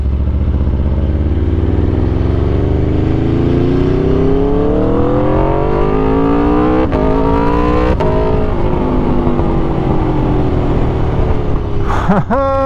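A loud Aprilia RSV4 sport motorcycle engine accelerates hard, pitch climbing through several gears, then a quick downshift and rev close to the end.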